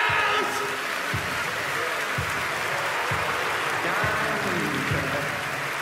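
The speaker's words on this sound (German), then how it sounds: "Applaus!" The audience at a 1994 live Tabaluga musical applauds in a steady, full roar of clapping, with a pulsing low beat underneath about once per second and voices mixed in.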